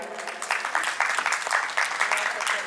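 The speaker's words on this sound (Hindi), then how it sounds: "तालियां जो लोग हैं बजा दीजिए भाई।" Applause from an audience at a school annual function, a steady wash of many hands clapping at moderate volume with brief swells, and some voices mixed in underneath.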